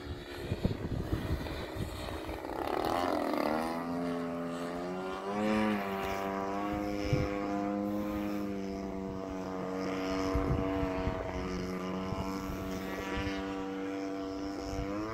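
A model airplane flying overhead, its propeller engine droning steadily with a pitch that climbs and shifts as it passes, moderately distant, with gusty wind noise on the microphone at the start.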